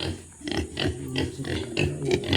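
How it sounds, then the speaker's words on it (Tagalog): Pigs in a farm pen compartment grunt and oink repeatedly at close range while drinking, a steady chorus of overlapping snorts. "Hello mga baboy!"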